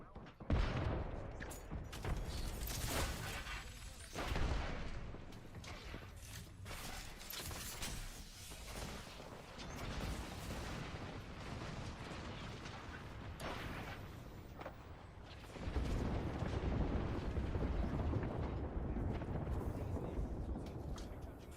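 A grenade goes off in Apex Legends amid rapid gunfire and several heavy bursts, with a loud, sustained blast rumble near the end.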